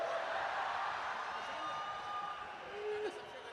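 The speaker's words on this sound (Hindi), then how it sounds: "सर इस पे तो अधिकारी भी ताली बजा रहे हैं।" Audience applause and cheering in a Hindi comedy poetry hall, a steady broadband wash of clapping with scattered whoops, continuous and fairly loud across the room.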